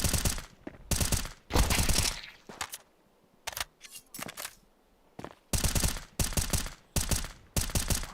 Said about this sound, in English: Perfect range for the semi-auto shotty.